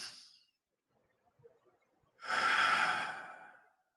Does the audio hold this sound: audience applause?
no